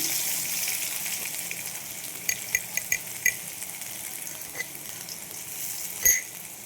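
Bitter gourd frying in oil in a pan, a steady soft sizzle with scattered small crackles and pops, fairly faint and close, with no talking.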